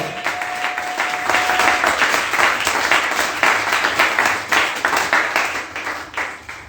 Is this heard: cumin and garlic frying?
no